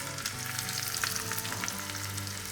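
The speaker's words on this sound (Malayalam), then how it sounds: "കടുക് പൊട്ടിയിട്ട് ചെറുള്ളി ഇട്ടു. പിന്നെ 2 വറ്റൽമുളക്." Sliced shallots and two dried red chillies fry in hot oil after mustard seeds have spluttered, giving a loud, steady sizzle with crackling pops throughout.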